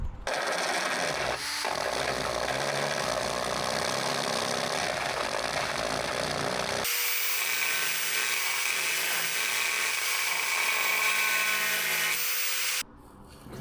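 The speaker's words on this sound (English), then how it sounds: "I'm going to see if I can use a combination of carbide bits to kind of reinstall that little edge where it would be" A rotary tool fitted with carbide bits grinds along the rusty body edge of a 1984 Toyota Corolla AE86 coupe, a continuous high whining burr that shifts pitch partway through and cuts off near the end.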